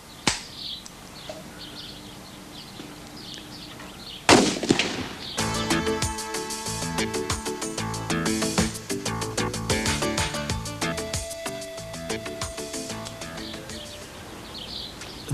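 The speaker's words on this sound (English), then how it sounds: "The subcaliber cartridge is fired by an activating cartridge, and the launching is without recoil." A subcaliber training cartridge is fired from an anti-tank weapon trainer by an activating cartridge, producing one sharp, loud blast, then a dense rattle of crackling and clattering, with faint bird chirps in the background.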